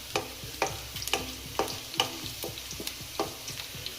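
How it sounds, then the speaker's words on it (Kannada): Restaurant-style chicken pepper dry masala frying in a pan, stirred with a steady run of sharp scraping clinks about twice a second over a low sizzle, near and without speech. "ಫ್ರೈ ಮಾಡೋಣ"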